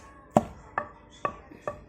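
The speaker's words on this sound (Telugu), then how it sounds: "ఇది ఉల్లిపాయ పేస్ట్ దంచాను" Onions pounded into a paste for bowl bread, four separate heavy thuds spaced at steady intervals, close and clear, with no voices.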